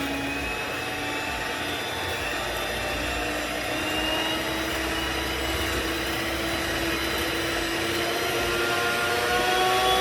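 An electric mixer on high speed beats egg whites with salt for a lemon meringue pie, giving a loud, continuous whirring drone that holds steady throughout.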